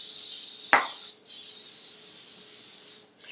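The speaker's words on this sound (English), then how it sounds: "I just spray the empty trash can with some disinfectant before we put a new liner in" Disinfectant sprays into an empty kitchen trash can in long, close hissing bursts, the first interrupted by a short knock, with brief pauses between, loud and alone without talk.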